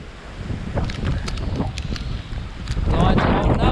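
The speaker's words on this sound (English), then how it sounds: "Pretty bloody windy." Strong gusting wind from Tropical Storm Isaias batters a microphone at a boat dock in the Dominican Republic, roaring loud and continuous and building toward the end, with a voice briefly audible beneath it.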